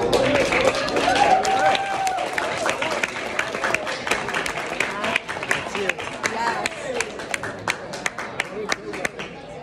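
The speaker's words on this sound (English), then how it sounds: "let's give everyone a round of applause" Audience applause after a call for a round of applause at a final-night Close-Up program event, a mix of clapping and crowd noise with voices talking over it and a whistle-like tone early on.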